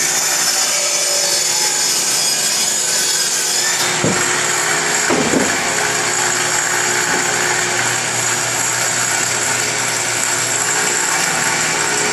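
Table saw cutting a wood board held in a jointer jig, a loud steady whine with a brief clunk of the board partway through, the cut running on close by without talk.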